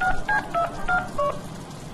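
A phone being dialed in the Deadpool video game gives a quick run of five distinct touch-tone beeps, each short and clear, standing alone over low background noise with no talking.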